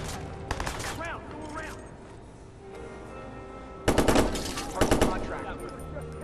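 Gunfire in the Xbox One game Watch Dogs, with loud rapid bursts up close, a short burst early and heavier volleys near the end, with voices heard between them.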